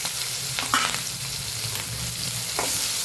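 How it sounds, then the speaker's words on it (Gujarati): Green chillies sauté in hot oil with mustard seeds, turmeric and asafoetida, giving a continuous close, bright sizzle with a few scraping stirs. "મરચાંને સાતળી લેવાના છે।"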